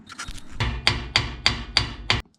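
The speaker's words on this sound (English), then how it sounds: "all I was doing was hitting the back of this with just a hammer" Six sharp hammer blows strike the back of a metal flange on a Ford 8.8 rear axle in an even rhythm, each a bright ringing clank, loud and close, ending abruptly.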